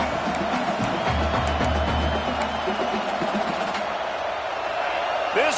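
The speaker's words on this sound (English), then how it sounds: "This crowd bringing the energy and noise early." A dense, steady stadium crowd roar at a Michigan vs USC football game fills a large space, with cheering swelling and broad noise continuing throughout, no single voice standing out.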